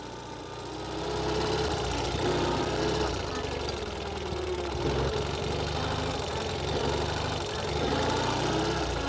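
A Ural Gear Up motorcycle ridden off-road with its sidecar removed, its engine running steadily and fairly loud throughout, with a low, uneven rumble under a faint voice.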